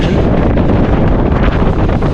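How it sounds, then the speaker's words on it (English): Strong headwind buffets the microphone during bikepacking on an exposed road in the Outer Hebrides, a loud, continuous broadband roar with no break across the whole stretch. "It's very windy, very miserable, very exposed, and very slow."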